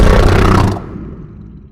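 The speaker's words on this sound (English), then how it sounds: "the sound of the alien frog from the video that I made for the library" A designed alien frog creature call built from pelican and flamingo recordings gives one loud, low, rasping roar that cuts off abruptly and leaves a fading low rumble, heard alone.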